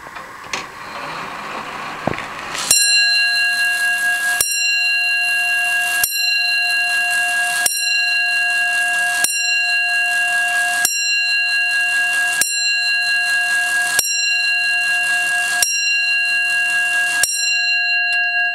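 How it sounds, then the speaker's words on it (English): A clock set to 10 o'clock gives a brief whirr of its mechanism, then strikes a ringing chime ten times at an even, steady beat, each bell tone loud and close, with no talking. "Now it makes that little whirring sound, which is what we call the setup."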